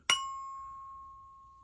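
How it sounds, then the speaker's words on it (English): A Simplex 2902-9207 single stroke chime struck once, giving a sharp metallic strike and then a pure bell-like tone that rings on and slowly fades, alone in a quiet room. "Obviously, it's from a single stroke chime."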